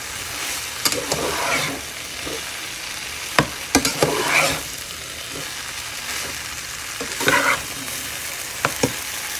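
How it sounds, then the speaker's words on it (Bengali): Maggi noodles are stirred into fried vegetables in a pan, with irregular scraping strokes and clatters over a soft, continuous sizzle. "তো এই সবজিগুলো ভাজা হয়ে গেছে, এবার ম্যাগিটা এর সঙ্গে মিশিয়ে দেব।"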